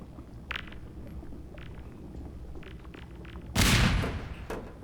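A grenade goes off in the video game Half-Life 2, in the Water Hazard chapter: one loud, sudden, broadband blast that tails off over about a second. Quieter clanks and distant shots come before it, and there is no speech.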